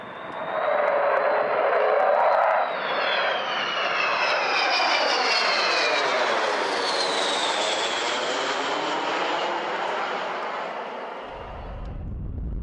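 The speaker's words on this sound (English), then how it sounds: "A jet-powered, tailless, delta-wing, high-altitude strategic bomber" An Avro Vulcan, a jet-powered, tailless delta-wing strategic bomber, roars overhead: a loud engine howl with a rising whine that sweeps past and slowly fades, heard alone.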